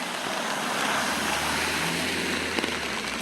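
Rainwater runs down a downtown street past clogged gutter drains, giving a steady broadband rush and hiss that holds at an even level throughout.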